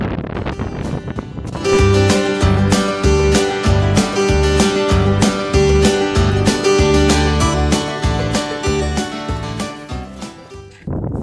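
Strong, steady wind roars across the microphone on a hill walk near Knock Fell in the North Pennines, Cumbria, with low buffeting thumps throughout, loud and continuous with no voices.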